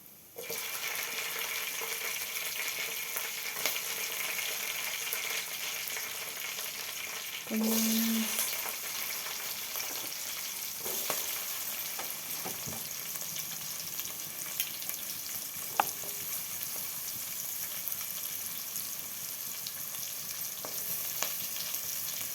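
Mustard seeds and green chillies frying in a pan for a Telangana-style potato egg curry, a steady quiet sizzle with occasional small pops and a brief clink partway through.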